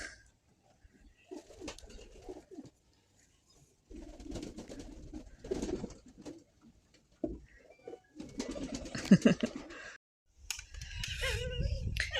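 Pigeons coo in several soft, low bursts at close range, separated by brief quiet gaps, with a little rustling around them.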